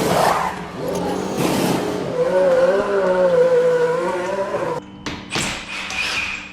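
A Milwaukee impact wrench works lug nuts during a tire rotation on a Honda CR-Z, a loud, steady buzzing whine that wavers in pitch for several seconds, cuts off, then returns in a few short bursts.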